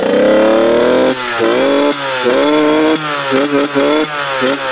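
A Yamaha DT 50cc two-stroke motorbike running on nitrous revs hard and close up, its high buzzing engine note rising and falling in repeated bursts of throttle.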